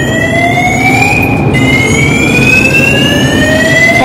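An alarm drill sounds loud and steady, a continuous wailing tone that slowly rises in pitch and sweeps over a dense, noisy background, with no talking.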